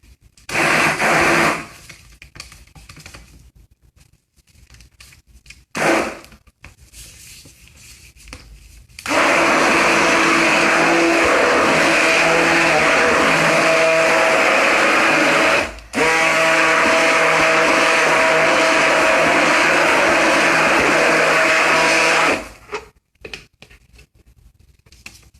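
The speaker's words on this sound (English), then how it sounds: "So let me finish stirring it up." A blender whirs loudly and steadily for about thirteen seconds, mixing apple cider vinegar shampoo bar batter up to thick trace, with quieter scraping and stirring sounds before it starts and a brief pause near the end.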